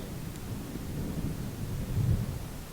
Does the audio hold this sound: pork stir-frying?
no